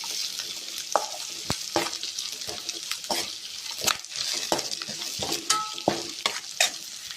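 A peas and potato curry fries in a pan, with a steady sizzle under repeated clinks and scrapes of a spoon stirring against the metal, close and continuous.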